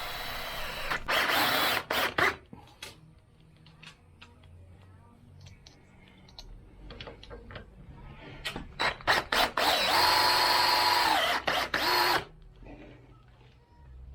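A power drill driving self-tapping screws to fit door hinges whirs in short bursts, with two longer sustained runs, separated by clicks and handling noises nearby.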